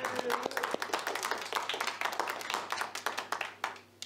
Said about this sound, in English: Kind of neat when they applaud just when you walk in, isn't it?